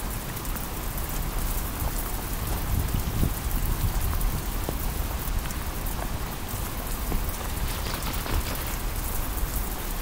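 Heavy winter rain pours down steadily under a heavy-rain advisory, a dense, loud hiss of drops striking surfaces nearby with no voices.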